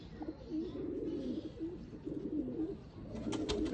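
A female chapray high-flyer pigeon coos repeatedly up close, a soft throaty rolling call that keeps going, with a faint rustle near the end.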